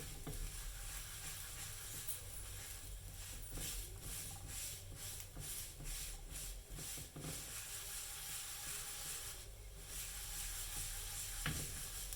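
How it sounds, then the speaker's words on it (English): A chapati pan-fries on a hot pan for Ugandan rolex street food, giving a steady close sizzle with soft scraping and shuffling strokes throughout, and no talk. "Then I'll pan fry my chapati."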